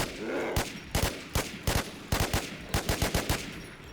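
Rapid bursts of M134 minigun fire in the game Infestation, a series of sharp, loud shots in quick irregular volleys, with a few brief pauses between clusters and no talking.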